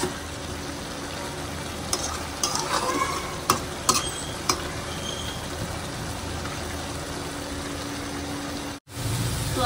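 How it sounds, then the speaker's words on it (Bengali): Shrimp and taro curry with wilted greens sizzles steadily while being stirred and fried in a pan, with a continuous hiss and scattered scraping clicks of the spoon. A low background hum runs beneath. "এই যে তরকারিতে নাড়াতে দিয়েছি"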